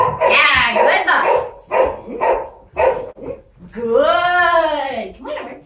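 A dog gives several short barks and yips in quick bursts, followed by a longer whining, tonal vocalization, close and loud indoors during a bedroom training session.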